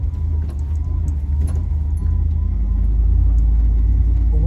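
LS-swapped car with a 6-speed manual pulling away in first gear, a deep steady engine rumble from inside the cabin with small rattles and clicks on top.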